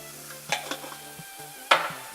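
Vegetables fry in a pan for a filet mignon en croûte, a soft sizzle broken by a few sharp scrapes and clinks of a utensil against the pan, close and fairly quiet.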